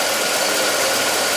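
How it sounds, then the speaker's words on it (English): A Chevy Tahoe engine runs steadily with a misfire on cylinder five, giving a continuous, fairly loud broadband rumble with a faint uneven knock and rattle and no talk. "I can feel now the misfire on the number 5"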